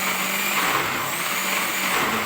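A kitchen blender grinds green condiments in a steady, loud, close whir that holds without break, with no voices.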